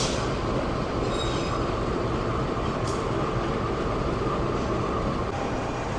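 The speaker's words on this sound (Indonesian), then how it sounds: "Nah ini lokomotif kereta api Progo langsir mundur." Progo passenger train locomotive shunting in reverse at a station, a steady loud rumble of engine and rolling wheels with a brief high squeal near the middle, continuous throughout.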